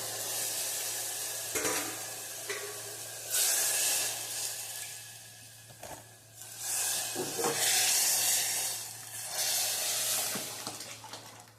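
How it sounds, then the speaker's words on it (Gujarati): A Gujarati tempering (vaghar) with asafoetida and red chilli powder crackles in hot oil, with sizzling surges that rise and fall against a low hum and occasional stirring clinks. "મસ્ત વઘાર થઈ જાય."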